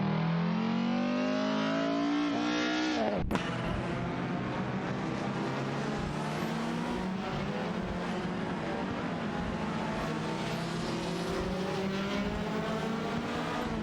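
Race car engines in a racing video game, with one car holding a steady high whine that rises, then a sharp click before a denser mix of several cars droning together at constant pitch.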